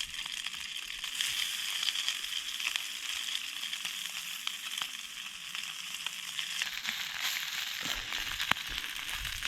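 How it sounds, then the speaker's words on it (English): Pre-cooked carnitas crisp in oil in a cast iron pan at a camp kitchen, giving a steady close sizzle and frying crackle throughout with occasional sharper pops, no talking. "I'm gonna crisp them up with a little bit of oil in the cast iron"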